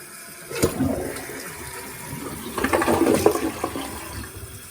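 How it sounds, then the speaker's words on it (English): A newly installed Kohler toilet flushes nearby with a sudden rushing gurgle, a brief lull, then a second surging swirl of water draining and refilling the bowl, with no talking. "Let's give it a flush."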